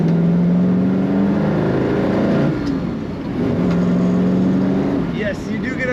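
A 1969 Ford Mustang GT Fastback's V8 engine rises in pitch as it accelerates, drops briefly at a gear change, then climbs again, loud and close under steady road noise.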